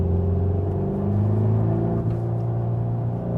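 A 300 hp VW T-Roc R is driven hard, its engine droning in a steady, loud interior rumble with rising and shifting tones as it accelerates, heard without talking.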